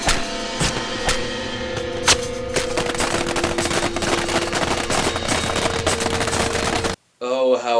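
Gunfire from a horror film scene at a summer camp, a dense, continuous burst of rapid machine-gun shots with sharp louder cracks, close and loud, ending abruptly before a brief snatch of voice.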